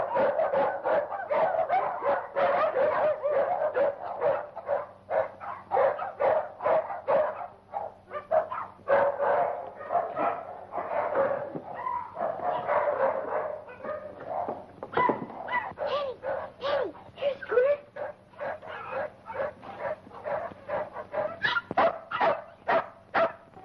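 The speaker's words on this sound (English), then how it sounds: "What's all the barking about? Oh, the dogs are nervous tonight." Several nervous dogs bark repeatedly at night before a storm, a dense run of sharp barks and yips with some whimpering, fairly close and continuous throughout.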